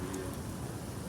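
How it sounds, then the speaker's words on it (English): Heavy rain pouring steadily outdoors at a camp in San Antonio, a dense continuous hiss of drops filling the short moment with no pauses. "I didn't know it was gonna rain like this"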